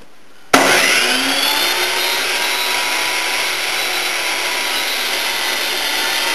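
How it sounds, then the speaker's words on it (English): A miter saw starts abruptly and cuts through a 5-inch wooden board, giving a loud, close, high-pitched whining roar that holds steady for several seconds with no talking. "this is how I use my miter saw to cut the last couple of 5-inch boards here"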